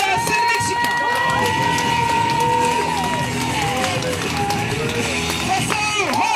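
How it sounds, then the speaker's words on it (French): A live wrestling-show crowd cheers and shouts steadily throughout as 3-versus-3 wrestlers are welcomed, a dense roar of voices with scattered clapping, loud and continuous with some tonal sounds above. "Veuillez accueillir et applaudir une nouvelle fois Charlie Venom"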